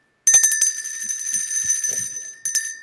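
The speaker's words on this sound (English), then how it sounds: "I'll ring a bell for them" A small bell rung in remembrance of women who were victims of the Salem witch trials gives a bright struck ring that sustains and fades, then a second strike near the end, close and clear with no talk.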